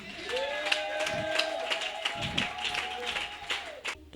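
A church congregation claps in a rhythmic pattern, with sustained voices and musical tones running over the taps.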